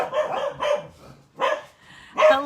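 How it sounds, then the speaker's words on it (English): Several small pet dogs bark in a short chorus, four loud close bursts separated by brief pauses, with no voices over them. "Doggy saying hello"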